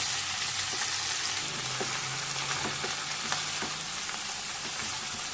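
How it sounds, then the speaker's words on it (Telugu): Cabbage stir-frying in a pan for a cabbage egg fry, a steady loud hiss with soft scraping and turning clicks as the shreds are tossed and mixed, no voices. "ఇలా వేసుకొని కిందకి మీదకి బాగా కలుపుకొని మగ్గించుకోవాలి"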